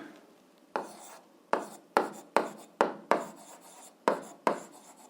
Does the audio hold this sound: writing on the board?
yes